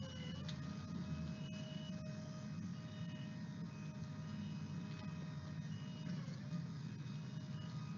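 A compact aerial work platform with 18-meter reach maneuvering through a tight turning radius in a confined space gives off a steady low engine hum and mechanical drone, with faint tonal whines riding above it and no voices.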